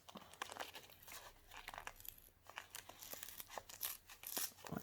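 Glued paper is torn and peeled off a scrapbook page in quiet, close crinkling rips that come in uneven bursts throughout.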